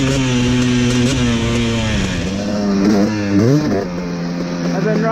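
A motocross motorcycle circles a dirt track at sunset, its engine droning loudly and continuously close by, pitch rising and falling as the rider shifts and revs through turns.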